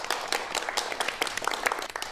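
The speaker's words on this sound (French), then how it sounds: "Je pense que vous pouvez vous applaudir" A modest group applauds at the close of a French ecology radio broadcast with residents, steady mid-level clapping with individual claps standing out, no voices over it.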